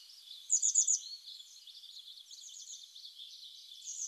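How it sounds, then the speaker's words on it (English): Small birds chirp and sing in a mountain gorge near a waterfall, a quick burst of high trilling notes followed by fainter, thin twittering. "However, it is possible to see other birds near the waterfall."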